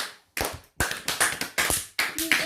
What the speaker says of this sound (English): Clap for Jesus, the children of God.